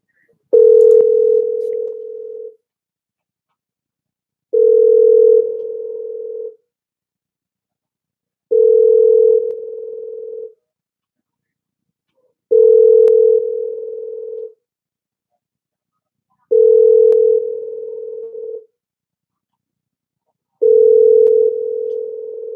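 A telephone ringback tone sounds while a call waits to be answered: six loud, steady tones, each about two seconds long, repeating at regular intervals of roughly four seconds with silence in between.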